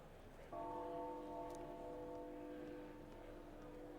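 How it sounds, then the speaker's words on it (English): Slow, sparse bell-like chimes from the Metaphor ReFantazio video game, a single sustained tone that rings out and fades softly over a quiet background. "the slow occasional chimes being the only music"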